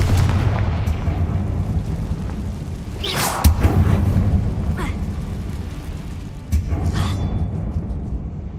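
A Confringo fire-blast spell explodes in Hogwarts Legacy inside a closed mine, with loud booming bursts over a rumbling bed, two sharp blasts standing out clearly.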